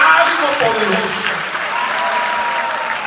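A congregation at a church leaders' conference applauds for the Lord, broad steady clapping from many hands, while a voice carries over the start of the applause.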